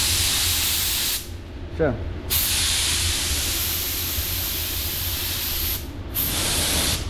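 A paint spray gun hisses in loud bursts while spot-repairing a car, two long sprays broken by short pauses, with a brief spoken word during a gap.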